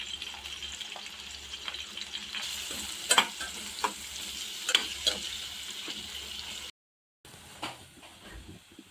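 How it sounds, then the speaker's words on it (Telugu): Turmeric frying in a hot pan for a goat blood curry, with a steady sizzle and repeated spoon scrapes and stirs at close range. A brief silent gap comes near the end. No one speaks. "ఇది కలర్ మారేంత వరకు ఫ్రై చేసుకోవాలి"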